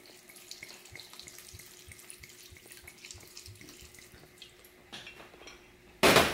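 A kitchen tap runs steadily while cooking, a close, even trickle of water into a sink, ending in a sudden loud blast as a Vitamix blender starts up, with no talking.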